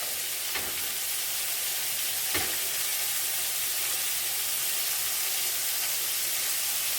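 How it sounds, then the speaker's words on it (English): Sausage frying in a hot pan in a home kitchen, a steady soft crackling sizzle with a couple of brief louder pops, close but fairly quiet, with no talking. "We'll turn our sausage on now. Let it get hot."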